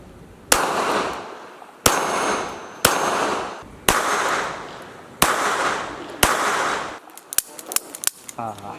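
A Beretta Tomcat pistol fired one-handed, six sharp, loud shots spaced about a second apart with short ringing decay, followed by quick metallic clicks and handling noise.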